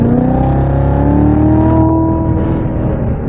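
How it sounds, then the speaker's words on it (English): 2016 Corvette Z06 with manual transmission, 3LZ trim and Z07 package, accelerating hard in second gear: a loud, close, continuous engine roar whose pitch climbs steadily as revs rise, rich harmonic growl, no voices over it. "this is probably one of the best sounding engines on the market"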